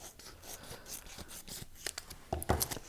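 Scissors snip and rasp through a vacuum-sealed food saver plastic bag up close, a few quiet scratchy cuts followed by a sharper crinkling burst near the end.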